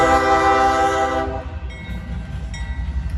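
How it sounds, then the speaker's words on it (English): A CSX track geometry train passes close by, opening with a loud, sustained horn blast that cuts off into the steady heavy rumble and rattle of the passing cars. "This is a CSX geometry train."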